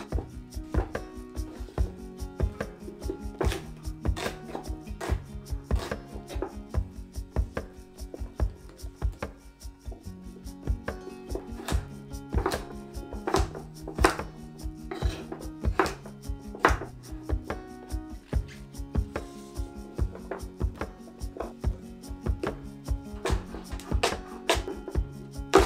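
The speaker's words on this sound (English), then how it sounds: "we're cutting everything into large chunks." Vegetables being cut into large chunks with a knife on a board for a braise, heard as a steady run of close, crisp chopping strikes over about 26 seconds, alone with no talk.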